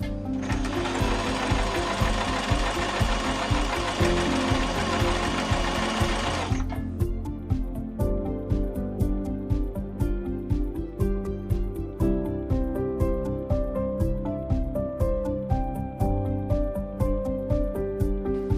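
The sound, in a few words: Singer Simple mechanical sewing machine twin needle stitching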